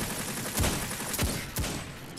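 Old Fashioned legendary hand cannon fired in Destiny 2 gameplay: three sharp, separate shots about a second apart, loud over a constant din of game ambience.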